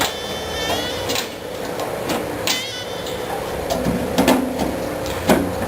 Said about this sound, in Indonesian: Pertama-tama kita harus membuka baut dari casing.